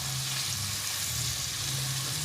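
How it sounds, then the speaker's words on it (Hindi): Potatoes fry with turmeric and crushed red chilli in a pan, giving a steady close sizzle and soft crackle with a low hum beneath. The sizzle runs continuously with no talking. "इसे दोबारा से फिर हमें फ्राई करना है"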